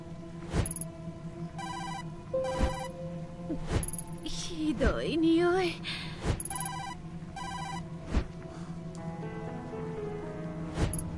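A telephone rings repeatedly in the Tokyo Dark video game, evenly spaced electronic rings about every two seconds over steady rain, with someone talking briefly between rings.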